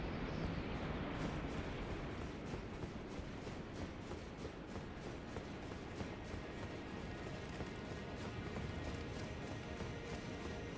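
Horse hooves galloping in Elden Ring, a fast continuous clip-clop rhythm close up under a dense layer of game ambience, no voices.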